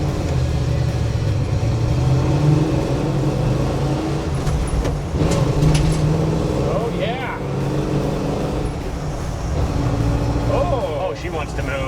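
A 1967 Ford Bronco drives along on a cold day, its engine a steady low rumble close by, while people in the cab talk over it.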